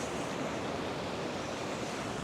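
Ocean waves wash sideways over a rock edge in a continuous, broad hiss of surf and churning water, fairly faint and steady with no voices.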